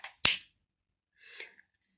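A single sharp hand clap rings out on a still hill, a crisp isolated crack followed by a brief fading tail, then a faint soft rustle afterward.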